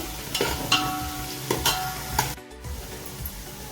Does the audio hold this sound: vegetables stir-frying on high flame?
yes